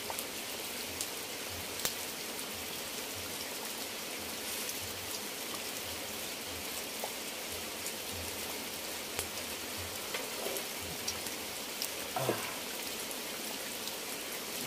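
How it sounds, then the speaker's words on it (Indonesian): Heavy rain falls at a hut beside a rice field at the foot of a mountain, a constant dense hiss with scattered drops striking nearby surfaces. "suasana hujan di kebun Bang Alan"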